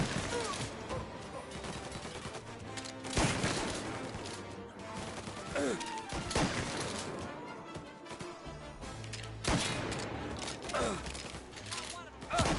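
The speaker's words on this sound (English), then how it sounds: "Gunshots heard. Please respond." Dense, continuous rattling gunfire with sharp bursts and crashes from a PS4 video game, loud and busy throughout, with voices mixed into the din.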